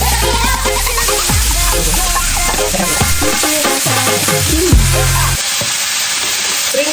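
Pork meat sizzling loudly in a pan with softened garlic and onion for dinuguan, a steady crackling hiss with stirring scrapes throughout that drops away near the end.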